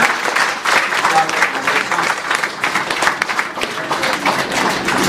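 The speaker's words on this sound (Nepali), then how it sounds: "उहाँहरूलाई हामी विशेष जोरदार ताली बजाएर" Congregation in a church in Pokhara, Nepal claps loudly for welcomed guests, a steady dense wash of hand claps that carries on for several seconds with no talking over it.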